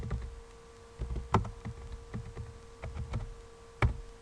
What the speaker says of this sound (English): I am typing, it is Linux session.